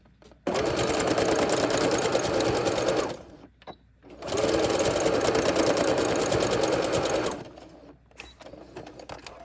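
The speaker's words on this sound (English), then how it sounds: "I'm using the regular sewing machine" Regular domestic sewing machine stitching a leg garter, running in two long continuous bursts of rapid mechanical whirring, close and loud, with brief pauses and short starts between runs.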